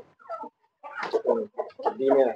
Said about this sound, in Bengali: মুরগি এবং মোরগ দুটাই আছে